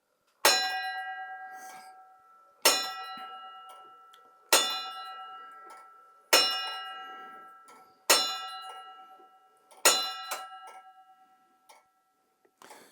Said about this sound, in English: the 1 hour bell, which is the bigger one, has to start